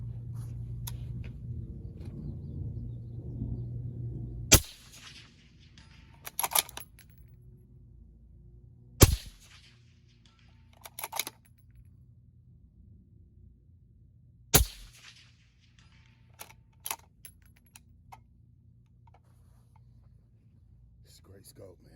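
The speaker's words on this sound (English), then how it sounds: "Let's go ahead and send some rounds down range" Three sharp, loud rifle shots from a rifle fitted with a Vortex Venom 5-25x56 scope crack out at roughly even intervals, with metallic clinks and quieter handling knocks between them over low background hum.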